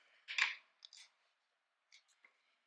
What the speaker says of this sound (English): So I've just got little scissors.